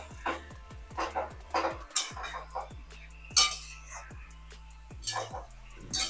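Greens being stir-fried in a pan while a utensil scrapes and clinks against the metal in quick irregular strokes, close and fairly quiet, with some faint background sound.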